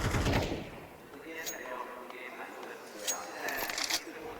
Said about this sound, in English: Takes a shot deep, gets a response, bullets fly through.